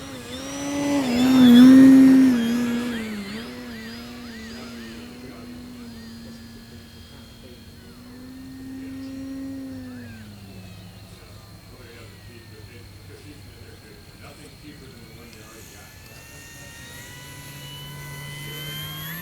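An FMS Ranger 1800mm high-wing RC model airplane flies overhead with a steady electric motor drone, swelling louder as it passes close early on and fading to a distant hum, with someone talking over it.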